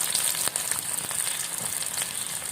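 Small shallots frying in coconut oil in a pan, giving a steady, close hiss and crackle that holds at an even level throughout, with a few faint stirring clicks and no talk.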